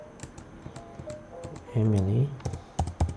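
Typing on a computer keyboard: a quick run of light key clicks under a voice, with a few louder taps at the end.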